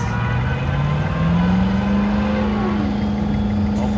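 A Duramax diesel truck engine in a King of the Street sled pull revs loud and close, its pitch rising steadily and holding a strained, sustained roar throughout.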